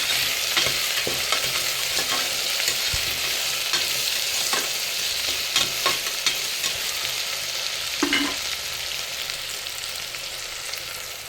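Tomatoes frying in a pan for ghee rice: a constant loud sizzle with scattered light scrapes of a stirring spoon, heard up close and without talk.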